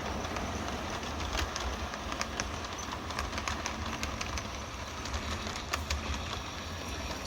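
A model railroad train passes on a home layout as a soft, steady rumble with light, irregular rail clicks, faint and continuous.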